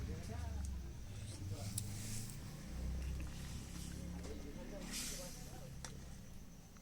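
Egg curry gravy with fried eggs simmers under a lid in a village kitchen, giving a steady broadband hiss and bubbling throughout, with low rumble beneath and no talk.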